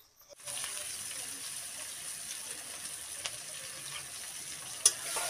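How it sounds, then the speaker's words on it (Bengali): Three medium chopped onions frying in a pan with a little sugar, a steady soft sizzle running throughout at close range, with a sharp clink near the end. "পেঁয়াজটাকে আমি লাল করে ভেজে নেব।"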